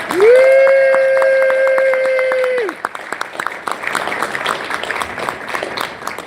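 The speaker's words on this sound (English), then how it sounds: "let's give an applause to all the speakers we've heard thus far" An audience applauds the speakers at a live crypto event. A loud sustained tone rings first, then a dense, steady wash of crowd clapping carries on to the end.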